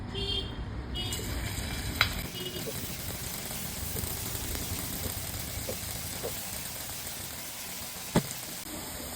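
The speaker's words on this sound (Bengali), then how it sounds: "এই সময় আমি বেসনগুলো কিন্তু ভালো করে ভেজে নিব।" Gram flour (besan) fries in hot mustard oil with a loud, steady, hissing sizzle that runs the whole time, broken by a couple of faint clicks.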